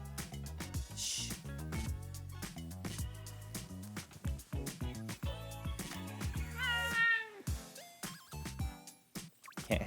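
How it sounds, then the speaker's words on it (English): A pet cat meows indoors, several short, clear calls scattered through a stretch where a person also talks and shushes nearby. "It's my cat."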